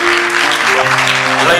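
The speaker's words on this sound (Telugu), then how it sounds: "వెరీ గుడ్, క్లాప్స్ కొట్టండి అందరూ." An audience at a Telugu Christian New Year youth skit claps together in a dense, steady burst lasting under two seconds, with background music playing underneath.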